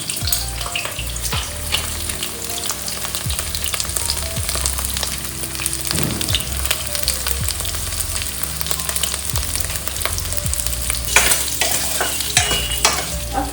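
Pieces of yam (suran) fry on medium heat, a dense continuous sizzle with frequent stirring scrapes and clatters, close and loud throughout.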